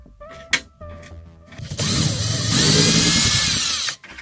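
A power screwdriver unscrewing a ceiling light fixture during an LED light conversion, a loud whirring run of about two seconds after a few short taps and clicks, close to the listener.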